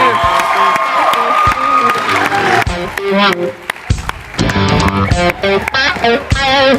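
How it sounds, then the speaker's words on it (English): At a youth event, the crowd claps and cheers for the youth leaders. Brief whoops and children's shouts rise out of the applause, which stays busy and uneven under loud voices and music-like tones. "One more applause for these guys as they lead for us"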